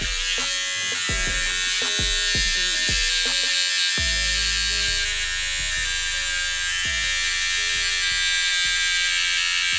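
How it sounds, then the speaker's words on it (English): An electric trimmer buzzes loudly and continuously at close range while trimming a mustache, with small shifts in pitch as it presses against the hair. "Then do your mustache too if you got one. I'm trimming like right on top or whatever, so it's not on your lip"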